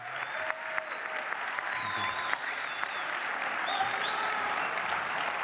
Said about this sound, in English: big round of applause to the audience